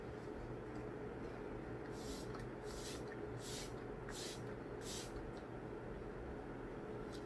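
A facial mist bottle is pumped five times in quick succession, each spray a short, soft hiss over quiet room noise.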